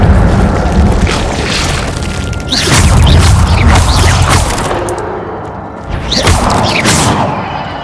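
Incendio fire spell cast in Hogwarts Legacy, loud booming fiery bursts with crackling crash, one big blast followed by a second burst a few seconds later.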